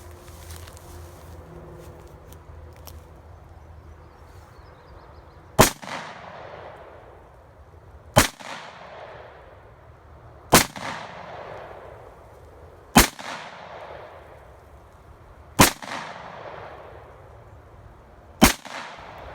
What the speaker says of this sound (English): going to give the 38 specials a shot